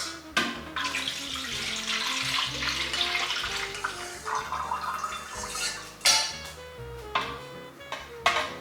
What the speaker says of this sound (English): Now I'm gonna pour the simple syrup in next.